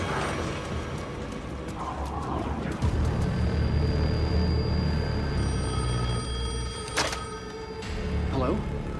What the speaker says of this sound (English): phone was ringing again